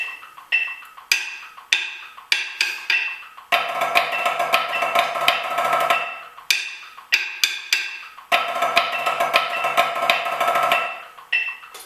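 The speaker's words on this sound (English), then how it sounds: "2 flam drags and then 2 more flam drags starting on the of 2" A snare drumline lick played up close: crisp flam drags in clusters alternate with dense, sustained tap-roll passages, the pattern repeating twice with sharp accents.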